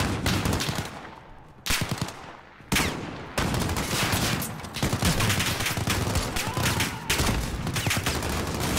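Dense bursts of rapid gunfire and heavy shots crackle loudly in Call of Duty: Modern Warfare (2019), with brief pauses between volleys, like a chaotic firefight.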